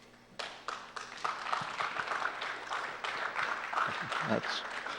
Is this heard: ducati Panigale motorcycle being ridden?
no